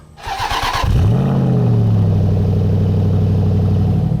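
The engine of a 575 bhp Bowler P1 prototype Land Rover Defender cranks briefly, then catches and settles into a steady, loud idle close by, with a deep rumble holding to the end.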